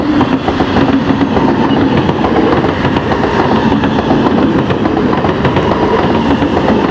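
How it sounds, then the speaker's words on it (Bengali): A train thunders past a railway level crossing with a loud, continuous close-up rumble of wagons and steady clattering wheels, and no talk is heard. "চলে গেল ট্রেন।"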